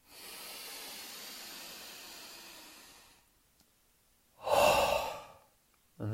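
Slow, deep breathing from a guided relaxation exercise: a long, steady airy exhale lasting about three seconds, a pause, then a louder, rougher breath, with another starting at the end. Close and clear, no talking.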